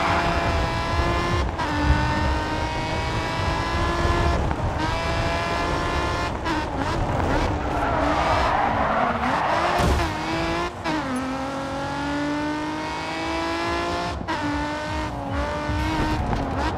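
Race car engine in the racing video game Grid 2, droning loudly and steadily with rising and falling revs, gear shifts and tire skids through corners, no talking.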